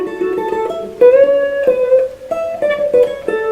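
A clean electric guitar on the neck pickup plays a slow melodic line of single sustained notes, warm and round in tone, heard alone.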